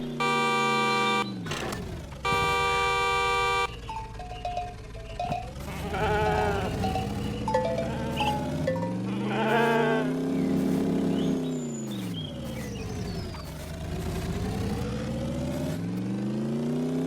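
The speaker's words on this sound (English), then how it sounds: "There's more sheep." Cartoonish sheep in the cosy delivery driving game Truckful bleat repeatedly in wavering calls, layered over a steady game hum and bright musical tones, with no talking.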